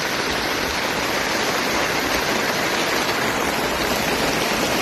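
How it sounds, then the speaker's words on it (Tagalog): Steady heavy rain hisses as a dense, unbroken wash of noise, close and even for the whole stretch. "Second week pa lang ng June, nag-uulan na."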